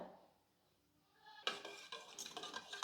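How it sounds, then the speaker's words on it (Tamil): Curd being whisked with salt until smooth, for curd vada: after a near-silent start, quick scraping and clinking strokes of a spoon in a bowl follow, close and steady. "தயிர் கட்டி இல்லாமல் நல்லா அடித்து எடுத்துக்கோங்க"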